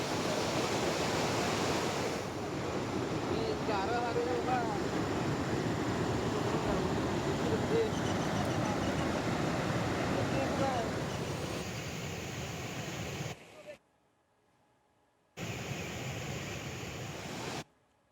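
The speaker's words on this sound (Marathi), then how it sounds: "मोठ्या प्रमाणामध्ये नदीला महापूर आलेला आहे" Continuous roaring rush of a flooded river tributary after heavy rain in Latur, loud and broadband, with wind noise mixed in; it cuts out briefly near the end and then resumes.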